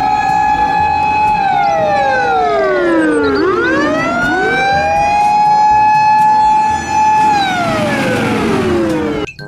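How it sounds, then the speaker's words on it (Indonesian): Fire engine siren wails loud and close, sweeping down and back up in long pitch glides and holding steady tones, continuous throughout with traffic rumble beneath. "Di sini ada mobil damkar atau mobil pemadam kebakaran ya"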